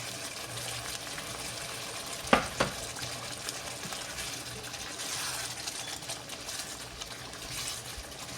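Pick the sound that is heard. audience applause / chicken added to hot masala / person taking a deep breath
chicken added to hot masala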